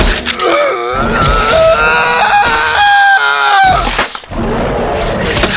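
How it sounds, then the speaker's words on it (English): A loud, drawn-out agonized scream from a character in a grimdark horror audio drama, wavering and strained across several seconds, with a short gasp or break near the end. "The crisp cut of Minty's words was soon engulfed by a painstakingly agonized scream"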